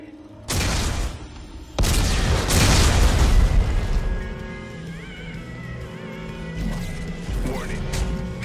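A heavy explosive blast in Dead Space 3 booms out after a sharp first burst, with rumbling debris and crashing that trail off under game ambience.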